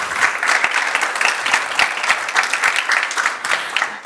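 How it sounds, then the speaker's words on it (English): An audience at a hybrid media literacy forum in Helsinki applauds a panelist, many hands clapping in a dense, steady burst with a few sharper individual claps standing out, close and sustained. "Please, round of applause for Joey."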